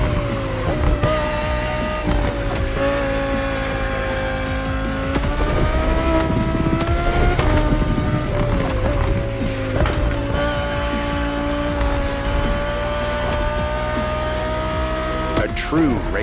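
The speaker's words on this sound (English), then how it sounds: "The 2020 Audi R8 LMS GT2." A 2020 Audi R8 LMS GT2 race car drives in the racing game The Crew Motorfest. The engine drones loudly and steadily throughout, its pitch climbing and dropping with the gear changes.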